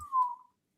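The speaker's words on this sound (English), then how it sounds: "Oh, he's whistling." A single short whistled note from a person, clear and steady, fading out after about half a second, with no talk over it.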